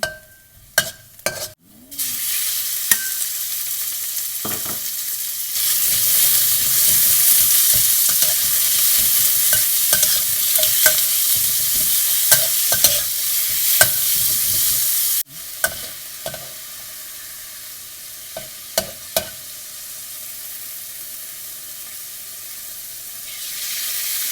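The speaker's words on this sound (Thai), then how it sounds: "ใส่กระเทียมลงไป ข้าวผัดร้านอาหารตามสั่งนะคะ" Garlic frying and being stirred in a pan for Thai restaurant-style fried rice: a few clanks, then a loud steady sizzle with spatula scrapes and knocks, dropping briefly midway before continuing; no talking.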